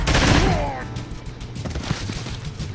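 Gunfire from the tactical video game Troubleshooter: Abandoned Children, a loud burst of shots opening the moment and fading into rumbling game effects and faint voices.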